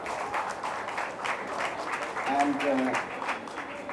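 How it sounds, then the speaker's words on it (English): An audience at a Mithibai College social cause event claps, a moderate spread of hands heard at a distance with a voice speaking over it. "all of us must clap for this"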